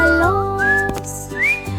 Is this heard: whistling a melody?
yes